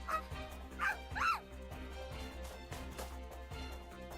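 A dog in the visual novel game Fureraba barks and yips in short bursts over the first second and a half, then a faint rhythmic backdrop continues underneath.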